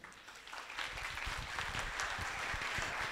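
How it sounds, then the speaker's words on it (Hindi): An audience at a youth conference applauds, moderately faint clapping that builds after a quiet start and holds steady as a dense patter. "तो उसके लिए बहुत तालियां बजाएं"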